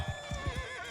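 A horse neighs in a medieval battle video game, a clear harmonic whinny running over a steady beat of hoofbeats, close and fairly loud with no talking.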